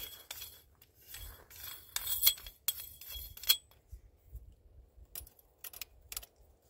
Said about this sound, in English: So we're going to put our barrel nut on.